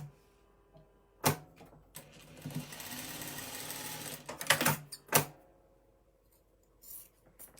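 A sewing machine stitching in one steady run of about three seconds, bracketed by sharp clicks and clacks of handling, heard close up with no talking; the work is a row-by-row sew-along quilt block with a heart.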